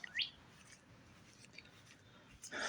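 Birds chirping outdoors in a field, a few faint high calls standing out near the start and the end against a quiet background.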